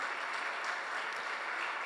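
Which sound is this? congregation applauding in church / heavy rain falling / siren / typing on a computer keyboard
congregation applauding in church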